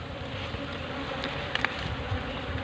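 Bees swarm around a hive during a honey harvest, a continuous dense buzz at steady loudness with a few sharp close clicks and knocks partway through, and no talking.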